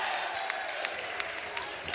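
Home crowd at a varsity boys' high school basketball game (Lenape at Shawnee) cheering and clapping after a made three-pointer, a steady broad roar with scattered sharp claps throughout.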